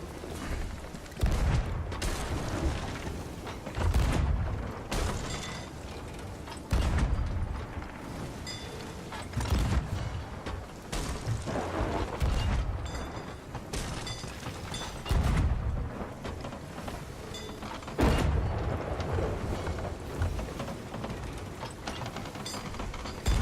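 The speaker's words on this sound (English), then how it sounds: "Reloading cannons." Repeated booming cannon fire during a naval battle against skeleton ships in the pirate video game Sea of Thieves, heavy blasts recurring every few seconds over continuous mechanical rumble and clatter, loud and close.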